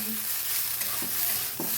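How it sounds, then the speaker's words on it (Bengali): Okra sizzles in a hot pan while a spatula scrapes and stirs it a few times, close and steady. "বন্ধুরা ভেন্ডিটা ভাজা হয়ে গেছে এবার ম্যাগি মশলাটা দিয়ে দেওয়া হবে"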